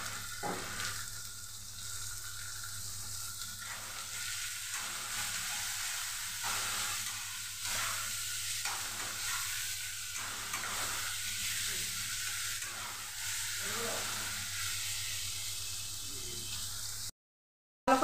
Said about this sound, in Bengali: ভালো করে নেড়ে চেড়ে নিয়েছি।